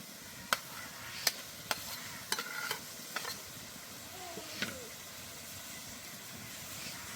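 Bathua greens being stirred with fried eggplant in a pan for a vegetarian dish: a soft low sizzle runs underneath while sharp utensil scrapes and clacks land every second or so, fairly close.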